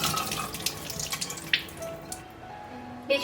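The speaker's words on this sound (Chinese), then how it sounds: "把米洗干净。" Pearl rice being rinsed in water in a kitchen, soft splashing and trickling with scattered drips and a brief tap of the bowl, close and quiet.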